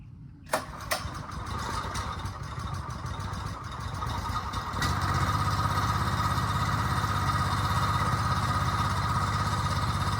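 The small gas engine on a Northstar 24-ton log splitter sputters and catches, then settles into a steady, buzzing idle that grows slightly louder as it warms up, heard up close with no voices.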